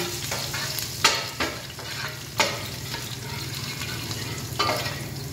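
Garlic dropped into hot oil sizzles steadily in a home kitchen pan, with a few sharp stirring scrapes and clinks breaking through the constant frying hiss; no talk.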